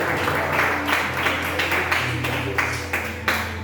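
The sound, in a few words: congregation applauding loudly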